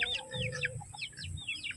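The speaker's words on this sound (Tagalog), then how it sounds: "Yung ating mga manok oh." Chickens clucking and chirping close by, a run of short fluttering calls over a low murmur of background noise.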